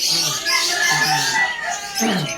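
White Kelso gamefowl chickens cluck and call close by in a short burst of repeated, overlapping bird sounds with no talking.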